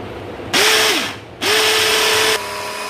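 Electric vegetable chopper runs in two short bursts, each a loud whirring motor rising to a steady high pitch and cutting off, with a short pause between over faint room noise.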